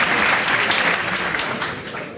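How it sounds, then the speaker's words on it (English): A keynote audience applauds to welcome the speaker, a dense, steady wash of clapping from many hands that stays loud and close throughout, with no talking over it. "Give him a warm round of applause"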